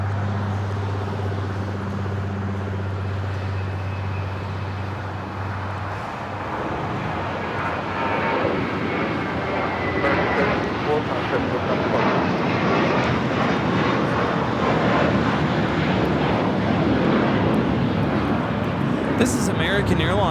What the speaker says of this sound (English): This is American Airlines 764 taking off to Puerto Vallarta on the A321